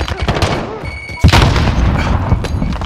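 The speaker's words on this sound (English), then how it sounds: "Grenade out!" A grenade explosion in the video game Call of Duty: Modern Warfare, a single sharp loud boom that rings out amid gunfire and game noise.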